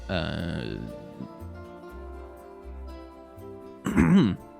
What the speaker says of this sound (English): sorry for the coughing. It's my asthma.